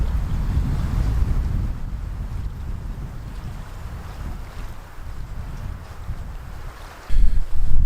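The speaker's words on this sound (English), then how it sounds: "There's a break now and the wind at least dry it out a little bit." Steady wind rushes over a tent campsite at Killarney, buffeting the microphone in a constant roar that strengthens into a harder gust at the end, with no voices.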